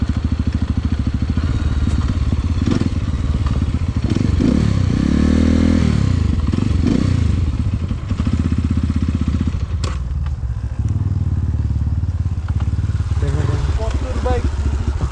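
A Crossfire RMZ250 dirt bike runs loud and close on a test ride, its engine revving up and down with rising and falling pitch, rattling and clattering over rough ground.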